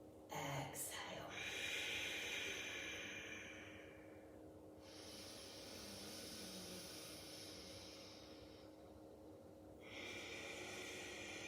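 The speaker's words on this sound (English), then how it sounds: "Really big belly breaths, just as you would if you were lying in Shavasana" Slow, deep belly breaths during a standing yoga pose, with long audible exhales through the nose rising and fading twice under a faint, quiet room tone.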